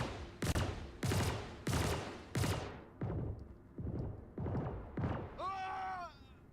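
Repeated gunshots ring out in a video game, about eight evenly spaced loud reports roughly every half second with ringing tails. A short electronic warbling tone follows at the end.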